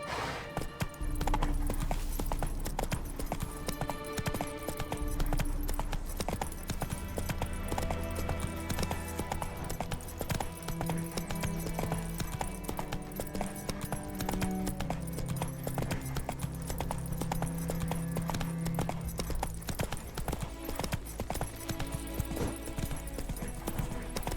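Roach the horse's hooves clip-clop in The Witcher 3, a continuous rhythmic trot running beneath orchestral game music and ambient sound, without talk.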